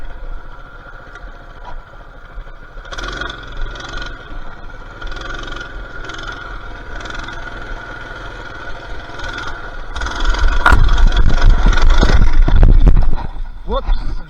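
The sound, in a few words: Coleman BT200X mini bike engine while riding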